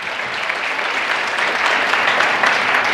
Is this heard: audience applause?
yes